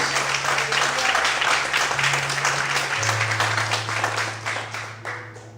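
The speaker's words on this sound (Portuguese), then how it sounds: "Dê fortes palmas, aleluia. Mais fortes palmas, aleluia." A church congregation applauding during a sermon, a dense, sustained wash of clapping with a low steady tone, likely an organ or keyboard, holding and shifting pitch beneath it, slowly fading toward the end.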